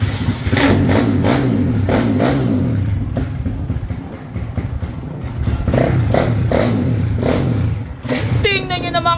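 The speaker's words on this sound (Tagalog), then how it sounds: "Yung pinaandar ko kasing motor is 190cc." A 190cc motorcycle engine revs on a racetrack, its loud pulsing throttle bursts rising and falling in repeated surges with a steady low rumble throughout.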